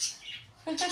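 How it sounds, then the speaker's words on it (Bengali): A caged bird gives a couple of short chirps, faint and brief, at a home birthday gathering. "খাঁচার পাখি।"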